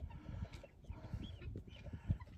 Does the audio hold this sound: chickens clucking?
yes